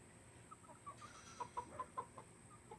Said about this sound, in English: Hello, chickens, roosters, roosters, and the dogs next door are going crazy.